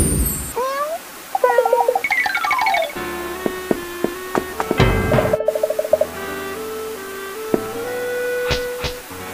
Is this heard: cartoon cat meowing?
yes